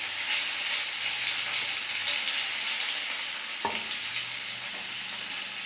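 Bhola fish frying in a pan of oil, a loud, steady sizzle and crackle throughout, with a brief clink of a utensil midway and no talk.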